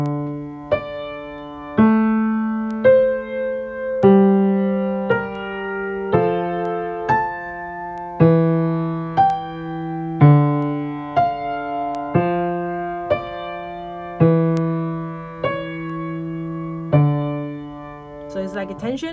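Music played to show a suspension non-chord tone: a slow sequence of sustained piano-like chords, each struck and left to ring, changing roughly every second in a steady rhythm.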